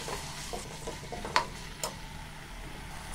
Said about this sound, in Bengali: মাংসগুলো ভালো করে ভেজে নিতে হবে, তাই চুলায় রেখে বেশ কিছুক্ষণ এইভাবে নাড়তে থাকবো।